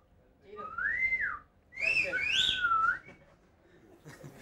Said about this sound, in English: Who can whistle loudest?